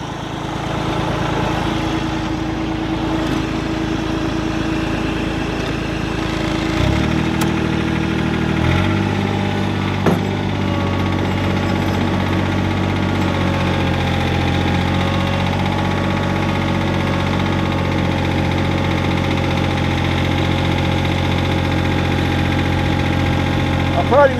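A John Deere 755 compact tractor idles steadily after a cold start, a loud, close diesel drone with a low rumbling hum that shifts pitch slightly partway through.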